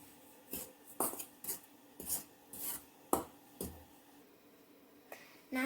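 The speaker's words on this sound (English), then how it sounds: "And I'm going to mix it with a fork." A fork stirs scone dough ingredients in a bowl, making quiet, uneven scraping and scratching strokes, about ten of them, with short pauses between.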